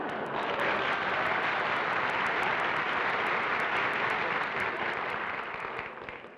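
A television studio audience at a 1957 game show breaks into loud, dense applause that holds steady for several seconds and then tapers off at the end.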